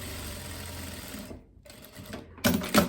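A sewing machine with a fine needle and stitch length 3.5 stitches viscose fabric, a steady soft whirring hum that pauses briefly and then resumes with a louder rattling burst at the end.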